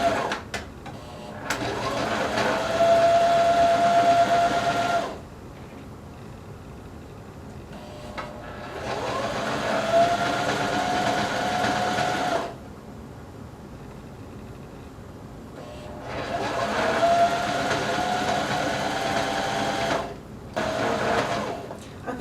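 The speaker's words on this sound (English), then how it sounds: "I go over it and then I back stitch a few times so I know that that crotch area is pretty secure" A sewing machine runs in three separate bursts of a few seconds each while back-stitching the crotch seam of stretchy leggings fabric, with short pauses between the runs. The motor hum is close and steady.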